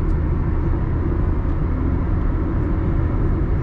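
A 2022 Nissan Sunny cruises along a highway at night, heard from inside as a steady, loud, deep road and engine rumble with constant tyre roar and no talking.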